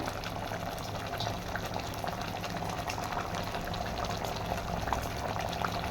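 A pot of sambar with lentils, brinjal, drumstick, sambar powder and masala boils steadily, giving a constant bubbling simmer with no talk.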